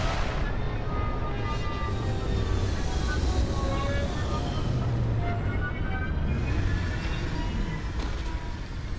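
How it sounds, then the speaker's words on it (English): Retro thrusters on a spaceship fire during a landing in the video game Starfield, a steady loud roar with rumbling low end and faint whining tones that holds for the whole stretch. "Landing struts primed, retros firing."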